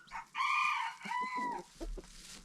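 A Brahma rooster gives a series of close, melodic food calls with clucks to his hen, rising and falling in short bursts, with softer chicken clucking mixed in.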